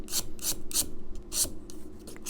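A blade scrapes away the corner of a wooden guitar binding in quick, rasping strokes, about five sharp passes in rapid succession, close and clear with no talking.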